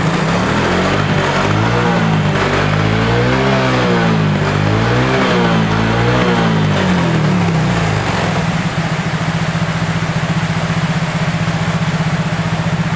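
A Yamaha Mio J scooter engine running after an injector replacement, loud and close, rising and falling through a few revs before settling into a steady, even idle.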